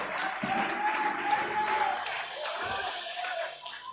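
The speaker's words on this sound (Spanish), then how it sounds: "Démosle una ofrenda de aplausos al Señor." A church congregation applauds in an offering of praise after a sermon, clapping through a reverberant hall, moderately loud and mixed with murmuring voices.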